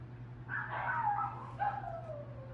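Puppies barking at someone at the door, a couple of yelping barks followed by a drawn-out whine, fairly faint and a little distant, with no talking.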